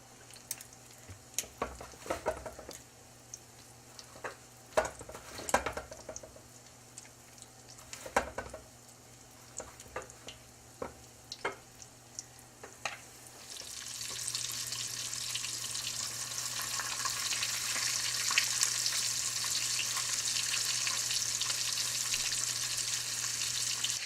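Cornmeal-crusted mountain trout fry in a pan. Scattered light clicks and taps give way to a steady, fairly loud sizzling hiss that fills the second half.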